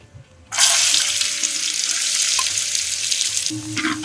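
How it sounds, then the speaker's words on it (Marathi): Onion drops into hot oil already frying with whole spices, bursting into a loud, steady crackling sizzle that holds for several seconds, with a few stirring knocks near the end, for a village-fair style Kanduri mutton. "कांदा परतून घ्यायचा"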